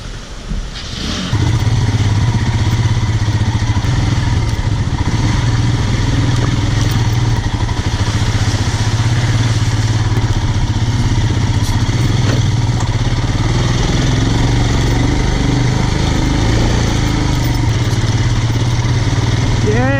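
Royal Enfield Himalayan motorcycle being ridden, its engine a steady loud drone with clattering mechanical texture and wind rush throughout, close and continuous after a brief quieter start, with a voice briefly heard over it.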